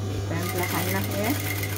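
A sewing machine stitches a ruffled pillowcase in a steady, slow mechanical whir with a faint rattle throughout, under someone talking.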